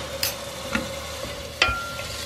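Soft scraping and clinking of a spoon stirring soy sauce and chili vinegar in a pan, a few distinct strokes over a low background hiss with no talking.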